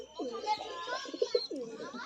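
Pigeons coo in a loft in a close, repeated series of soft throaty calls, several overlapping with brief gaps between phrases.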